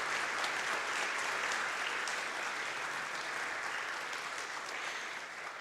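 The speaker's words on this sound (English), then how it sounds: "So a round of applause for that" A church congregation at a Christmas Eve candlelight service at Unity of Nashville breaks into sustained applause, dense and even, fading slightly toward the end with no one speaking.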